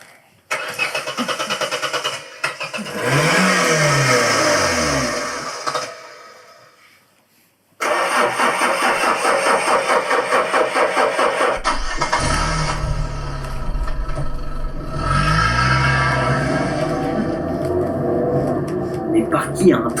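A car engine cranks and starts as a staged sound effect, with sputtering, revving bursts and a steady running drone across the passage, broken by a brief silence partway through, all under a busy layered mix.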